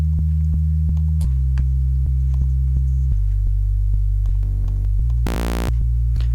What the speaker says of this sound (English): I'm gonna go for a sine wave.